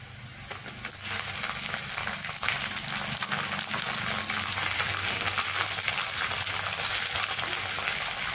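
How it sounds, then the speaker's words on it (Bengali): Tomatoes fry with browned onions in a pan, giving a steady, dense sizzle and crackle throughout, with occasional stirring scrapes and no talking. "টমেটো দেওয়ার পরে পেঁয়াজের সঙ্গে টমেটোগুলোকে একটু এভাবে ভেজে নেব।"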